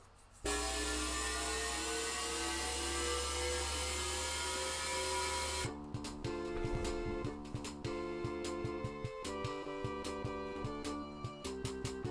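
Master System Phantasy Star jet flight to Motavia: a steady droning engine tone holds for about five seconds, then switches to chiptune music with repeated bleeping notes, no speech.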